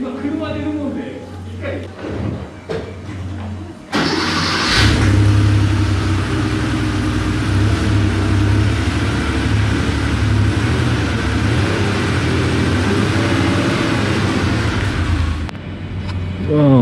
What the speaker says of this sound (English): That was my mate and his Porsche leaving.